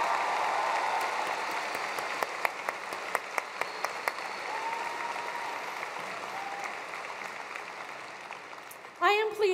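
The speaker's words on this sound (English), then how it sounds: "last round of applause in congratulating these 22 outstanding students" Graduation ceremony crowd at Cherokee Trail High School applauding, sustained dense clapping from a large hall audience with sharp sporadic claps standing out, ending as a voice begins.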